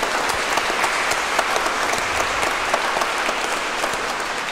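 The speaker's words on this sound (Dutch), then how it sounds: "En dat verdient een groot applaus." An audience in the Grote Kerk of Tholen gives a church concert performance steady, dense applause. Many hands clap together evenly, filling the reverberant space without a break for several seconds.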